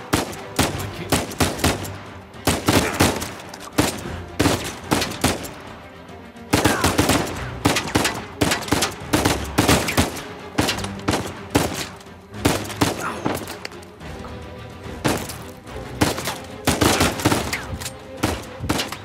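Rapid bursts of gunfire from the video game Uncharted 4, loud and close, with dense volleys of shots running almost continuously through the clip and only brief gaps between bursts.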